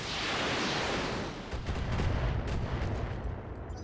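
Weapons fire in the combat video game Flashpoint, a dense continuous barrage of gunfire that fades after a second into scattered, rumbling shots.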